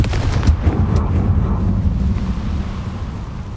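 A Confringo fire spell is cast in Hogwarts Legacy on PS5, bursting into a heavy, sustained explosive roar that rumbles loudly throughout with no pauses.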